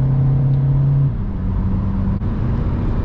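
A Volkswagen Caddy tuned to 190 hp, accelerating at full throttle up a slight incline in first gear. A steady, loud engine drone is heard from inside the cabin, with a brief dip partway through.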